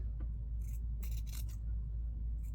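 Scissors snip through fabric in a few short, crisp cuts over a steady low hum, for a fabric and lace journaling card.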